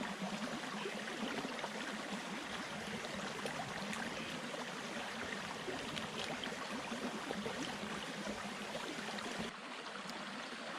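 Big Island Creek flows steadily through forest in Uwharrie National Forest, a continuous close rushing and babbling of water, level throughout and dipping slightly at the very end.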